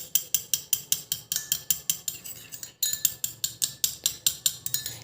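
Spoon stirring lemon juice into hair oil in a small bowl or glass, a steady rhythmic series of close clinking, scraping strokes, about three per second, with a brief pause midway and no talking.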